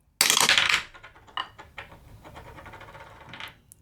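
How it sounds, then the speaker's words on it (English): A six-sided die clatters hard into a dice rolling box, then rattles, bounces and spins for several seconds in quick ticking taps before settling, close and alone. "A d6, so it's 1, 2, 3, 4, 5 or 6 in my dice rolling box here"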